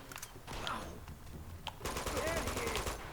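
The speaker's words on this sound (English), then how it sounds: "There's a guy Elena's shooting at." Gunfire in Uncharted 2: Among Thieves as Elena shoots at an enemy, with bursts of rapid shots and mechanical clatter mixed under game sounds and someone talking.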